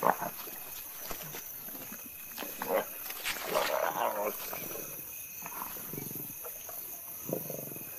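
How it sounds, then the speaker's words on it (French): Young white lions feeding on prey at night, with grunts, low growls and tearing sounds coming in irregular bursts, moderately close. "Après une période de famine et de privation, les jeunes lions peuvent enfin se remplir la panse."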